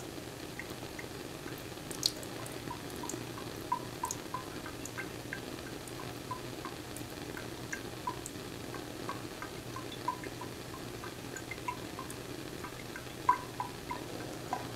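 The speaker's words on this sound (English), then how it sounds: "I'm going to go ahead and decant the water from the solution very carefully" Water being poured gently off copper solid in a chemistry lab beaker, a soft continuous trickle with faint drips and small splashes, steady and fairly quiet with no talking.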